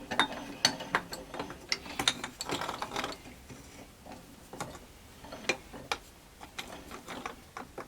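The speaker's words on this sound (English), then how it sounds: "Let me put it over here in the vise right quick." A part from a 1998 Suzuki quad runner 4x4 is clamped into a vise, giving a run of close metallic clicks, ratcheting ticks and small clanks that come in irregular bursts, louder at first, then sparser.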